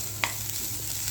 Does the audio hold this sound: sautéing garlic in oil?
yes